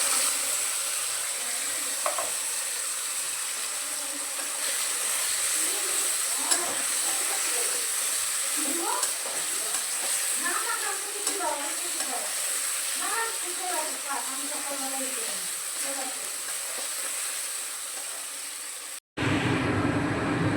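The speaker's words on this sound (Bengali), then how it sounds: "পেঁয়াজ ভাজা হয়ে গেলে এর মধ্যে দিয়ে দেব মশলার পেস্টটা। মশলার কাঁচা গন্ধটা যাওয়া পর্যন্ত কষিয়ে নেব।" Spice paste and onions frying in a pan for egg curry, a constant loud hiss and sizzle running throughout, with a voice speaking over it before a sudden cut near the end.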